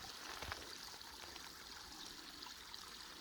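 Stream of water trickling at a water supply along the John Muir Trail, a steady, soft, even wash of running water with no other sounds.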